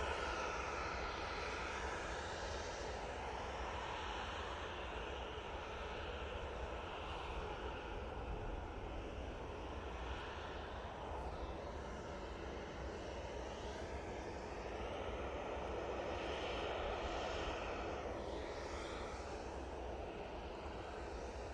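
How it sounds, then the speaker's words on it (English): A Finnair Embraer E190 LR jet arriving at Manchester Airport after a flight from Helsinki gives a steady, broad engine roar that holds at a constant level throughout, heard from a distance with no talk over it. "Next in will be the Finnair. It's coming in from Helsinki using their Embraer E190 LR."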